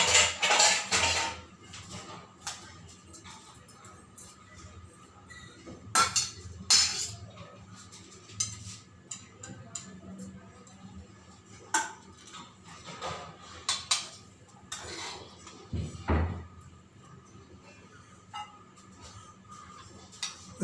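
A hot cooking vessel is opened and vermicelli upma with green peas is spooned onto a small plate, giving scattered close metallic clinks, scrapes and lid knocks with quiet stretches in between.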